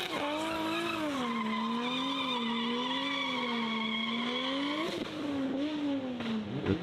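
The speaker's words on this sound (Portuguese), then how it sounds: "Legal o escape da BM saindo ali." A BMW drift car at the Goodwood Festival of Speed holds a long, wavering high-pitched exhaust note with tire squeal, revs dipping and rising before a sharper skid near the end, loud and close.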